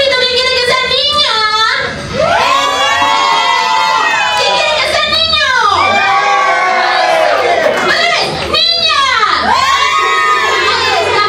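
A crowd of children shouts and cheers loudly at a gender reveal, sustained high-pitched screams rising in waves with brief dips, close and continuous for about eleven seconds.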